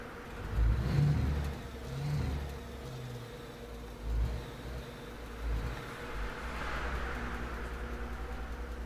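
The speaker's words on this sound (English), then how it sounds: "We've got a truck going." A truck engine in the Alaskan Road Truckers video game runs and revs in a few swelling bursts, then settles into a steady mid-level drone.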